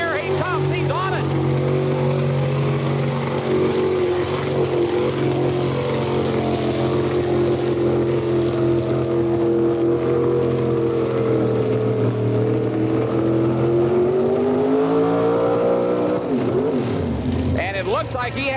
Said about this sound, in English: that engine was really screaming and the tires weren't going around near the end of the run